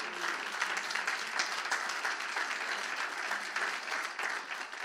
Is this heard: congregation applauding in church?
yes